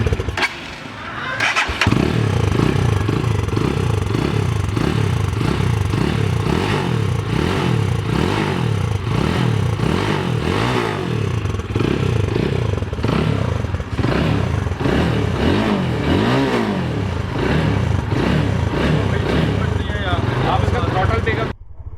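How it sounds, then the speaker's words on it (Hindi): A Super Power Sultan 250cc motorcycle starts up and idles, its engine thumping in a steady loping rhythm close by with a few blips of the throttle, while someone talks over it. "अब आते हैं इस बाइक के साउंड टेस्ट की तरफ और इसका साउंड सुने"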